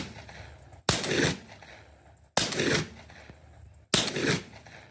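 Three suppressed shotgun blasts from a Remington 11-87 fitted with a Silencer Co. Salvo 12 suppressor, each a sharp muffled crack with a short decaying tail, spaced about a second and a half apart outdoors.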